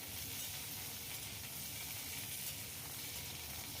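Vegetables for a Bengali vegetarian chorchori frying in oil, a steady dense sizzle and hiss filling the kitchen without pause.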